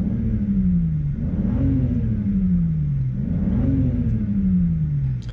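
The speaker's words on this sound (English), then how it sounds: "let's give it a few revs." Close-up engine revving: the pitch climbs sharply then slowly falls, repeated about three times in a smooth cycle over a steady rumble.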